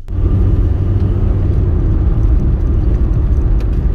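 A Rover 213S SD3 car engine runs at a steady low idle right after starting, a loud, close, even rumble throughout with no talking.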